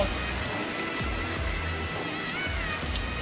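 Heavy rain pours down in a sudden downpour, a dense, continuous hiss of drops hitting surfaces that stays steady and loud throughout.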